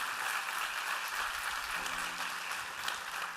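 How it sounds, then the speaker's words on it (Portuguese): A church congregation claps together in steady, dense applause that fills the room for the whole moment, with a faint murmur of voices beneath it. "Dê um aplauso bem forte a Deus"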